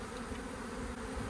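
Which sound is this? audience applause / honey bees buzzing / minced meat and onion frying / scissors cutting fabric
honey bees buzzing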